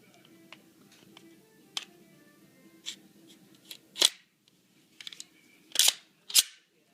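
Glock 19 pistol being reassembled, its barrel and recoil spring slid back into the slide: a few sharp metallic clicks and snaps, close and isolated, with soft handling rustle between them.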